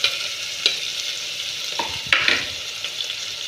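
Cumin seeds, green chillies and chopped onions frying in hot oil in a pan, a steady broad sizzle with a few sharp stirring clatters spaced through, close and fairly loud with no talk.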